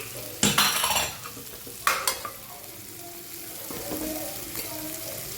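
Spice masala fries in oil in a pan, with two sharp scraping stirs early on and then a softer, steady sizzle that carries on with lighter utensil movement.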